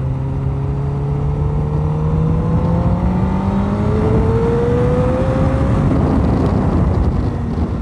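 Honda Fireblade CBR1000RR motorcycle accelerating hard, its engine note climbing steadily in pitch through a long continuous pull, loud and close with no speech.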